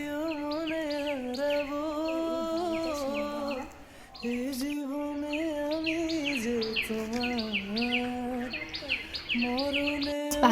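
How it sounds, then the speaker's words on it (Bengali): Birds chirp outdoors among trees on a fresh morning. Repeated high chirps and tweets sit over a sustained droning, buzzing tone, with a brief lull partway through before the calls resume. "পাখির আওয়াজগুলো শুনেছো"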